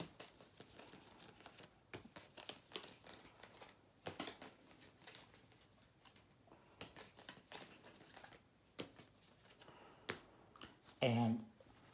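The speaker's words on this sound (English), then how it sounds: "everyone's going to get a hand of cards, going to be dealt out evenly amongst players" Playing cards being dealt one by one for the card game Nyet, producing quiet snapping flicks at irregular intervals, soft and close, with a louder rustle near the end.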